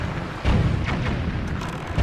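In The Legend of Zelda: The Wind Waker, a deep, loud cannon boom bursts out over a constant rumbling roar, with another blast starting right at the end.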